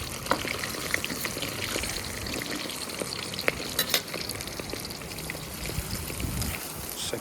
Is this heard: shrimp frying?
yes